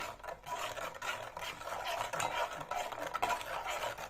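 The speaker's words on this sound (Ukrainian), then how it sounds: "Зараз я перемішаю його хорошо." Close, continuous scraping and swishing as a utensil stirs thick honey cake batter around a bowl in quick repeated strokes, with no talking.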